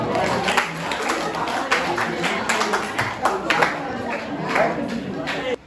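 A room full of classmates applauding a presenting student group, steady dense clapping that runs for several seconds at moderate loudness and then stops abruptly.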